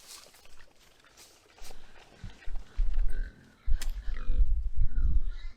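Pigs being raised at an off-grid cabin grunt in low, uneven bursts close by, growing louder and busier in the second half, with a few sharp rattles like an animal bumping a fence.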